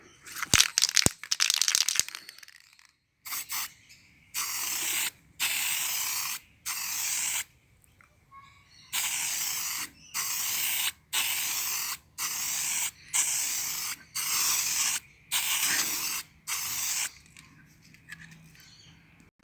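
Brunswick green spray paint hisses onto a scratch-built 0 gauge model railway station in a run of short, loud, evenly spaced bursts with brief silent gaps between them. A few sharp clicks come first.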